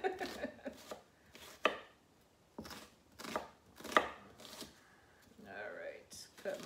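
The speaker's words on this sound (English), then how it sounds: "cut my onions up" A knife chopping onions on a board for codfish and okra, a few close, sharp cutting strokes in short bursts with gaps between, with quiet background sounds.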